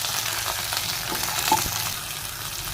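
Capsicum roasting in oil in a pan gives a continuous, even sizzle and crackle at close range, with a faint scrape of stirring partway through and no voices.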